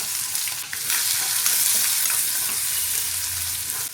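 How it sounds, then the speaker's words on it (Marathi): Onion frying in oil on medium heat with garlic, ginger and asafoetida, for a soybean chunk curry; a steady close sizzle with stirring scrapes throughout, no talk. "मीडियम गॅसवर मी आता कांदा अगदी ब्राऊन होईपर्यंत परतून घेणार आहे"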